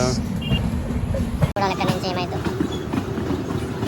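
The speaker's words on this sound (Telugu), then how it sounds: "ఢిల్లీ స్టేషన్లో మనకు వచ్చేసి ప్లాట్ఫామ్ నెంబర్ 16 మీద అయితే ఇది ఆగింది మన ట్రైన్ బ్రహ్మపుత్ర ఎక్స్ప్రెస్ వచ్చేసి" The Brahmaputra Express rolls into Delhi Junction station at platform 16. A close, continuous low rumble and wheel clatter carries throughout, with muffled voices in the background.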